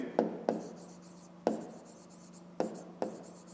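Pen handwriting on paper as divisors are written out for a fifth-grade maths exercise: five separate soft taps and short scratchy strokes, close and fairly quiet, spaced irregularly.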